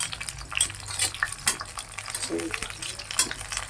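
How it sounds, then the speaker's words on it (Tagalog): Oil crackles and sizzles steadily in a pan, with scattered clinks of a utensil against cookware and some faint background voices. "Prito lang natin to."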